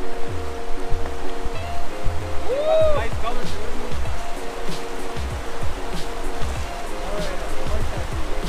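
Steady rushing roar of a waterfall on a small salmon river fills the scene continuously and close by, with people talking over it.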